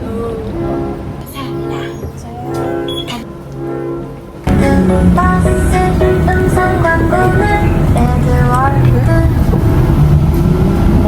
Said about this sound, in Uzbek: avtobusimiz kelyapti.